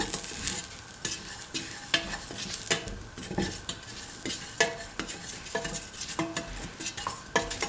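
A spoon stirs salt and mixed spices through sizzling potatoes and kidney beans in a pan, with quick repeated scraping clanks against the metal over a constant frying hiss.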